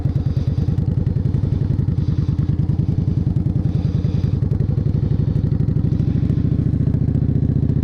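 Motorcycle ridden through practice test manoeuvres (cone weave, U-turn) with steady throttle and brake control: a continuous close, throbbing mid-pitched engine note with rhythmic pulsing, alone without talk.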